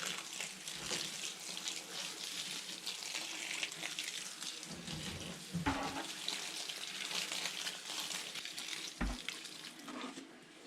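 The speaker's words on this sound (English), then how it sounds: "we're just going to wet it down real good." Water pours steadily onto shredded paper and cardboard, a continuous close splashing gush with a few heavier thuds and shifts in flow, and no talk.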